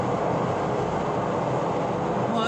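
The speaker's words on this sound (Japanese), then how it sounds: "今電車等でちょっとうるさいので声大きくしてますけども" A train runs nearby with a steady, loud rumbling roar that fills the background throughout.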